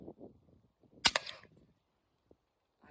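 A single sharp report from a suppressed hunting rifle fired outdoors, with a short decaying tail, standing alone in a quiet field, followed by low murmuring voices before and after.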